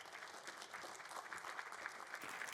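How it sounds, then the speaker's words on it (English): A small audience applauds at a Bethel College convocation, a thin, steady patter of hands clapping throughout, fairly quiet and distant, with no voices over it. "this sad little clapping ain't gonna work for me"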